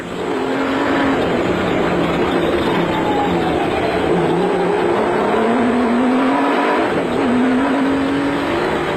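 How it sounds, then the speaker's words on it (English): On-board engine of a South African Nissan Hardbody off-road race truck at the Sugarbelt 400, droning loudly and continuously with rising and falling revs as it drives. "On board the second-placed proudly South African Nissan hardbody of Hannes Grobler and Richard Leek."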